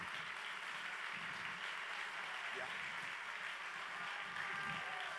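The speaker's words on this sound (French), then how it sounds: "Applaudissez-le" At a song contest, a hall audience applauds a singer with a steady, fairly distant wash of clapping that holds evenly throughout.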